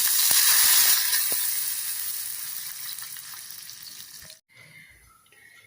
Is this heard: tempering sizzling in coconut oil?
yes